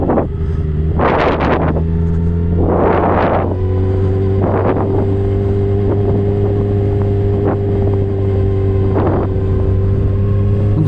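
Suzuki GSX-R 750 motorcycle ridden on a motorway, a steady engine drone with strong wind rush, rising in bursts of revving at intervals before settling back to a constant cruising hum.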